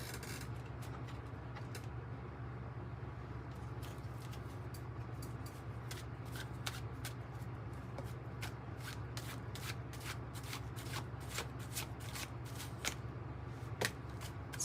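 A deck of oracle cards is shuffled close up, with a string of crisp, irregular riffles and slaps over a low, steady background hum and no speech.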